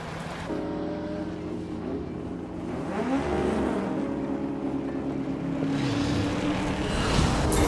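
Car engines racing in the driving game The Crew, a steady loud engine drone with rising and shifting pitch as the vehicles speed up, continuous for several seconds with no speech.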